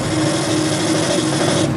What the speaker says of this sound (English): I've cleaned it up a little bit with a needle file